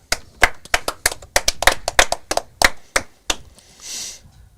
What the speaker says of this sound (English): So I think she deserves a bit of a clap for that.